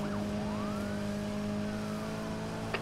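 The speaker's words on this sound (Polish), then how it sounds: "wzmocnione radiowozy już jadą." Police car sirens in the racing game Need for Speed Heat, a steady wailing siren sweeping over a constant loud engine drone, with a brief sharp click near the end.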